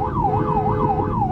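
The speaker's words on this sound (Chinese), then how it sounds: "救护车出勤开在内线车道持续鸣笛" An ambulance siren wails continuously in a rising and falling pattern, loud and close, with road and engine noise underneath; the ambulance is on an emergency call in the inner lane of Provincial Highway 74 in Beitun, Taichung.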